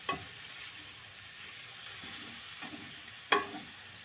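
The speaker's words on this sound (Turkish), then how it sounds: "Gördüğünüz gibi güzelce bulgurumu da kavuruyorum." Bulgur roasting in oil in a pot, a faint steady sizzle with a few sharp stirring scrapes, one louder clink near the end.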